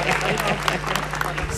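Audience applause at a televised Indonesian commemorative gathering honoring General Soeharto, a broad, steady wash of clapping filling the short moment, fairly loud and close with a faint low hum underneath.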